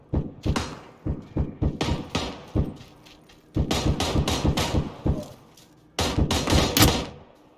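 AK rifle fire in PUBG Battlegrounds, heard as crisp, punchy bursts of shots in several separate volleys with short gaps between them, loud and close.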